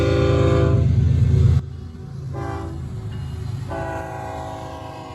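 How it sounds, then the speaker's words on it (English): A freight train near Barstow, California, sounds a loud, sustained horn blast for about a second and a half, then the rumble of rolling rail cars continues, with two further shorter, fainter horn tones. "So I do have a train that we caught out in Barstow or near Barstow."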